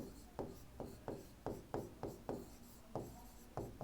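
Chalk or marker writing on a board, heard as a series of short scratchy strokes at an even, quick pace, faint and close with no voice over them.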